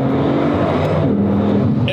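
A Bugatti Veyron accelerating hard, its engine pulling in a loud, steady roar with a sustained low drone across the whole short stretch, heard from close by.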